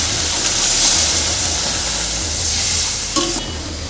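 Catla fish curry masala being stir-fried and cooked down in oil in a pan, a steady close sizzle and scraping stir that runs throughout, with a brief clink near the end and no talking.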